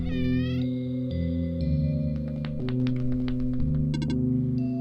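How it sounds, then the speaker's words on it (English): A cat meows in the video game OneShot, a tonal, wavering electronic-sounding cry at the start, followed by steady game background music with soft taps and chimes. "Oh, a cat."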